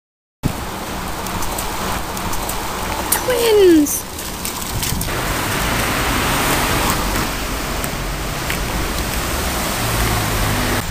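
Steady rain falls on a street in Rome, a continuous dense hiss. A voice briefly calls out partway through.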